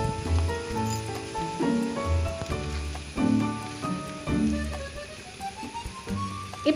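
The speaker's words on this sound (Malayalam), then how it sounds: "ഇപ്പോഴും ചെറുതായിട്ട് ഇങ്ങനെ മഴ തുള്ളിയിട്ടുകൊണ്ട് തന്നെ നിൽക്കുന്നുണ്ട്" Light rain drizzles steadily as a soft, continuous patter, with tonal sounds running through it throughout.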